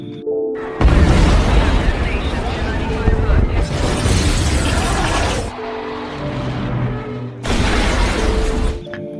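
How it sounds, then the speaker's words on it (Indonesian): A film bomb explosion tears apart part of an airplane, heavy booming blasts and shattering debris roaring in loud sustained waves with a brief lull before a final burst. "Tak diduga, Kel meledakkan bom itu yang membuat bagian pesawat hancur berkeping-keping."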